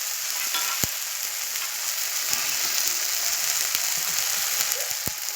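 Onion paste frying in oil in a pan and being stirred, a continuous hissing sizzle with a few sharp clicks of the utensil against the pan.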